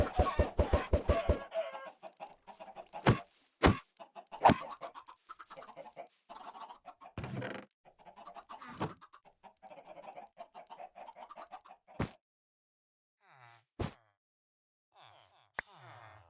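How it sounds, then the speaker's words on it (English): Chickens in the Minecraft modpack Enigmatica 6 Expert cluck in repeated bursts, a rapid run of clucks at the start, then scattered sharper calls and softer clucking with short gaps, moderately close and with no talk over them. "These chickens are some busy chickens."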